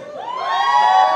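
A crowd of women at a metal concert anniversary show shrieks and cheers, the high-pitched shout swelling louder and holding steady to the end.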